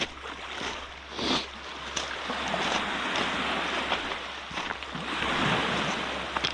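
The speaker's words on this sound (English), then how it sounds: "Very rocky beach here." Steady wash of surf breaking on a rocky island shoreline, a continuous loud roar with wind buffeting the microphone and occasional surges, no talk.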